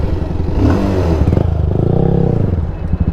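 A Yamaha R15M motorcycle fitted with a full-system exhaust revs up, sitting next to a Pulsar 220F before a drag race. The engine note is loud and close, rising and falling over a few seconds.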